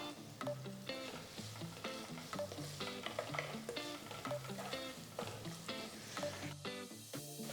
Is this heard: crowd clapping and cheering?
no